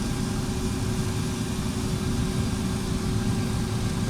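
Steady, continuous drone of MD80 jet engines at raised power in the X-Plane 11 flight simulator, heard from the cockpit with the engines mounted far aft; a constant low rumble with a faint tonal hum, no talk.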